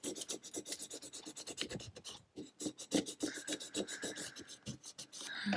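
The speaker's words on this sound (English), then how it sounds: "I'll go back with my scraper and just make sure it's all nice and smooth" A scraper rubs transfer tape down onto a wine glass in quick repeated back-and-forth strokes, a dry rasping scratch with a brief pause midway, close and alone.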